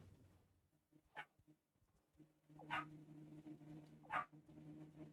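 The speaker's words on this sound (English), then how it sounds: "Because it's just a puppy that's barking." A puppy barks in short yelps in the video game Satisfactory, several separate sharp barks spaced over a few seconds above a steady low machinery hum, fairly faint overall.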